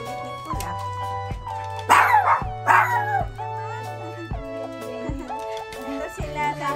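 Poodle puppies yip and bark in short excited bursts, with a louder cluster of barks in the middle, over a steady low hum and faint whimpers.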